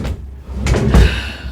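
A painted cheap wooden bathroom cabinet door opens or closes with a loud, close rumble and a soft knock, brief and alone.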